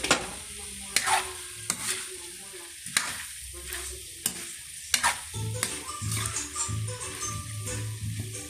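Cauliflower sautéing in a hot pan, with steady sizzling and repeated sharp scrapes and clanks of a spatula stirring through it, close and fairly loud, no talking.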